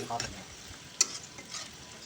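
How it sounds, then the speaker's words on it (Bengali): Bay leaf and shahi cumin tempering in hot oil in a kadai, then chopped onion added: a steady low sizzle with a soft clink of stirring around the middle, no talk. "কড়াইতে তেজপাতা আর শাহি জিরা ফোড়ন দিয়ে দিলাম তারপর দিয়ে দিচ্ছি পেঁয়াজ কুচি"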